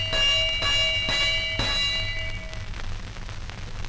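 A 1930s French radio comedian imitates the ringing bell of Toulouse, producing steady sustained tones with a few rhythmic struck pulses, fairly loud and alone, fading toward the end.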